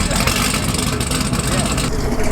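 A cammed car engine at a car meet runs loud and close, with a choppy, lumpy low-end idle and revving, while a voice may be faintly mixed into the noise.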